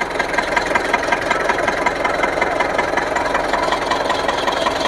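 Car engine idling with a steady rhythmic knock-like pulse while its dirty radiator is flushed with water, loud and close, with light talk underneath.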